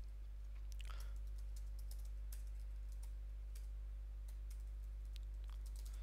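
Computer keyboard keys click in scattered, uneven bursts, close but faint over a steady low electrical hum.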